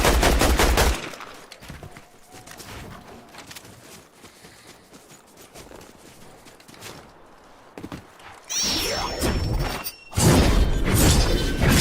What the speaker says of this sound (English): Somebody shooting at me, though.